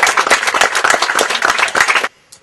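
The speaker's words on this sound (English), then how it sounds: "can everyone just give themselves a round of applause for being absolutely awesome" Wedding guests break into a round of applause, dense clapping from a nearby crowd for about two seconds before stopping abruptly into near silence.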